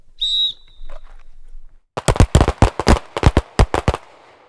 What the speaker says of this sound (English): I'm just looking at what I'm shooting at and the gun's gonna be pointed at it